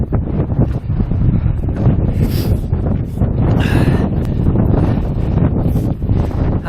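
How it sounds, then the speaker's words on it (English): Strong, fresh coastal wind at Gibraltar Point batters the microphone with a loud, constant roar and rumble that never lets up. There is no talking. "Incredibly fresh wind."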